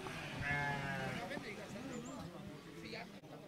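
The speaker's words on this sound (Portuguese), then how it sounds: "Ó, pessoal, o tamanho do borreguinho, que não é bonitinho." A lamb bleats at a goat and sheep market in São José da Tapera, Alagoas. One wavering, nearby bleat comes early and is followed by softer animal sounds, with people talking throughout.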